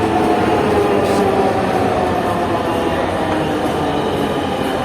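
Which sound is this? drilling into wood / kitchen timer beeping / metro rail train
metro rail train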